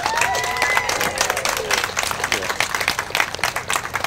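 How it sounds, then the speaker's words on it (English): An audience at a community refrigeration event at Hyatt Court Center of Hope in Newark breaks into sustained applause, dense clapping with a few cheers, steady throughout in a room. "Let's give a big round of applause."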